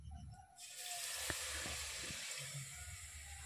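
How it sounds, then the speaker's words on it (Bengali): Rice flour stirred with beet juice in a hot pan for pitha, a steady sizzle with a few soft scrapes of the spoon, close and fairly quiet. "অল্প অল্প দিয়ে আমি নাড়তে থাকবো"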